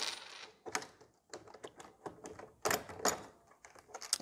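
Several small metallic clicks and clinks as a quarter is pried and pulled out from between the keys of an IBM PC Convertible keyboard, with sharp taps scattered across the clip.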